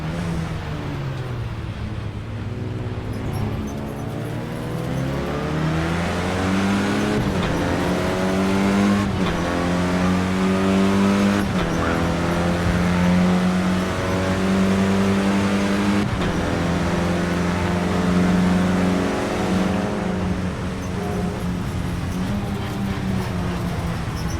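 Clio Cup race car engine on the final lap at Spa, a loud sustained near-field drone with shifting harmonics as revs climb and drop through gear changes, running continuously without speech.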